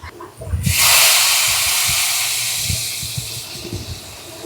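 Hot chili-powder oil poured straight into a clay pot of fish curry gives a loud, sudden hiss that erupts close up and slowly fades over several seconds, with faint clattering beneath.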